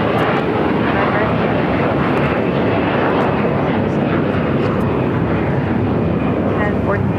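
At Los Angeles International Airport, a fixed-wing airliner roars down runway 25 right on takeoff, a loud, broad, continuous engine rumble that fills the whole stretch, with faint radio chatter underneath.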